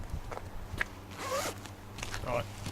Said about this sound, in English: You're doing your zips.